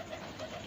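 Fancy show pigeons, a three-time champion breed kept by fanciers, cooing softly in a steady low murmur close by, with no one talking.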